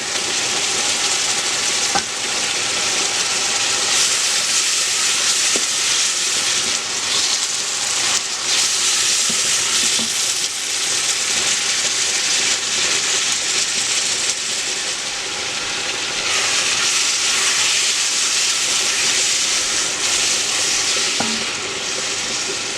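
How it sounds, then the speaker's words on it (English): Spinach and collard greens frying in a pan with bouillon cubes, a loud, steady sizzle that runs continuously for over twenty seconds with occasional stirring and no talking. "We're just going to keep frying."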